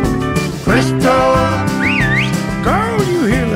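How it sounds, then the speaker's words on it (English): A melodic whistle rides over a country song's band backing, with bright sliding whistled notes rising and falling above steady guitar and bass, loud and upfront with no spoken words. "you hear that whistle?"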